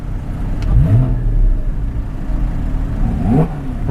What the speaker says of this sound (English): See if I can get Chris to rev